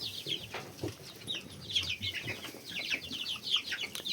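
Domestic hens cluck softly in a quiet coop or farmyard, with scattered short calls and some rustling or flapping at a moderate distance.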